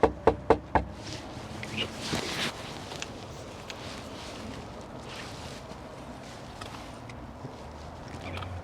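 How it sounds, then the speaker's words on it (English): Four sharp knocks land on a door in quick succession at close range, followed by muffled movement and faint background voices. "I'm knocking on this door."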